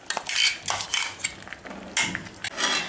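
Chicken being stirred with spice masala in a pan for a ghee roast, with repeated scraping and clinking of a utensil against the pan in uneven bursts, close and fairly loud, no voices.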